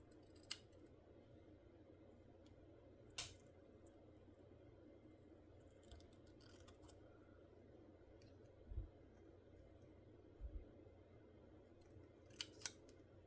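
Small scissors snip fabric for a miniature tailor shop, giving a handful of faint, crisp, widely spaced cuts against a quiet room hum.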